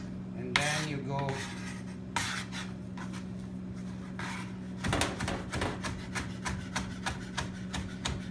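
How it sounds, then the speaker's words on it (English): Garlic cloves being chopped by hand with a knife on a cutting board, a run of quick, crisp blade taps close by, broken by short pauses and a few scraping strokes. "So you chop first the garlic like this"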